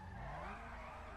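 Tires screech continuously as a car slides through a drift at a GTA Online drift meet, a steady, loud skid with engine drone underneath and no talking.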